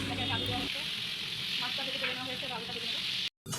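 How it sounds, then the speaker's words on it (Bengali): Potato pieces frying in hot oil in a pan during preparation of a Bengali katla fish kalia, giving a steady close sizzle throughout with a brief low hum at the start and a short dropout near the end. "তো এবার একে একে আলুগুলো ভেজে নেব।"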